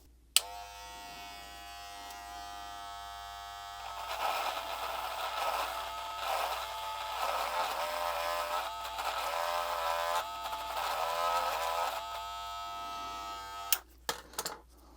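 A Wahl Black Magic Clip hair clipper buzzes steadily as it cuts hair at a barbershop, its hum swelling for several seconds before cutting off, followed by a few sharp handling knocks.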